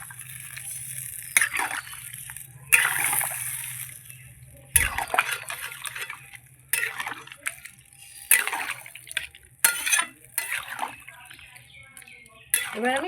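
Water is poured into a pan of rohu fish curry with potatoes and broccoli, giving bursts of splashing and sloshing liquid with light clinks of the pan between pours.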